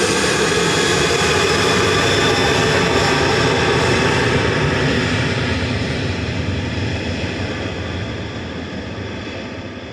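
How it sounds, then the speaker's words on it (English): A Boeing 737-800 jet rolls down the runway for takeoff at Manchester Airport, its engines roaring loud and steady before the noise slowly fades toward the end. "This is GTAWI on the roll, 737-800."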